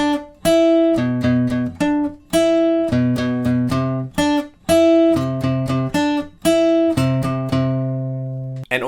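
Guitar plays the second line of a riff, a clean, close, loud run of short muted plucks and ringing notes in a choppy, syncopated rhythm with brief gaps, ending on a sustained note.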